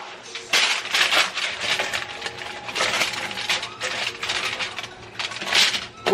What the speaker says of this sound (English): Putting foil on a piping hot item is just